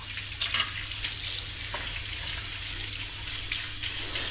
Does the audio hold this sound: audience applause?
no